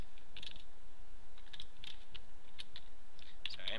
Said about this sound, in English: Sorry, I'm typing with one hand.